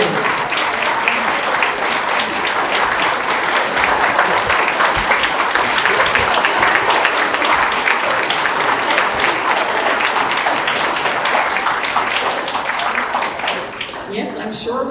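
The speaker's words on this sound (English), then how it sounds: "This round of applause is for you." Loud, sustained applause fills the hall at an awards ceremony honoring life turnaround achievements, a thick crowd of clapping hands at full strength for many seconds before tapering slightly near the end, with some voices mixed in.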